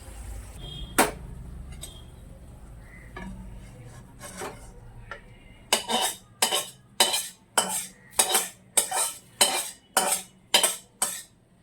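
Spices for a khichuri tempering being stirred in a metal pan in a home kitchen, a sharp clank followed by a steady series of about ten rhythmic metallic scraping strokes, close and fairly loud with no talking.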